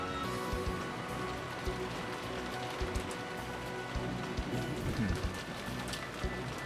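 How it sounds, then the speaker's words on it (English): Heavy rain falls steadily with a dense, continuous hiss and patter on surfaces, a game soundscape from the visual novel Umineko: When They Cry, with scattered louder drops and no voices. "Though she had an umbrella up, Erika got drenched as she sprinted"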